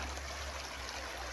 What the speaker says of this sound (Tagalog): dagayday ning tubig mga higala aning sapa diri sa Manduwang.